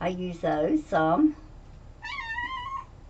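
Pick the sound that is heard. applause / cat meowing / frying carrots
cat meowing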